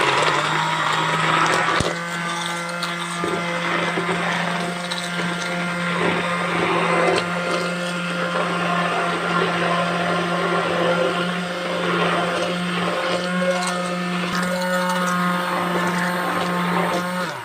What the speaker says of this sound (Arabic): هنشتغل بقى بالهاند بلندر